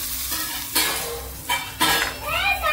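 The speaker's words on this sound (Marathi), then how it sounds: "चटणीमध्ये जिऱ्याचा तडका देऊया।" Hot cumin-seed tempering poured into a fasting-style chutney, a few quick loud sizzling bursts over a sputtering background, with light clinks from a spoon or pan nearby.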